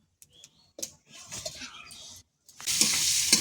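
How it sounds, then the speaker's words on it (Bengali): Prawns fry in a pan. Brief taps and stirring come first, then a loud, steady sizzle builds near the end. "দেখো চিংড়ি মাছগুলো কিন্তু খুব বেশি ভাজবো না, যেহেতু লাল লাল হয়ে এসেছে"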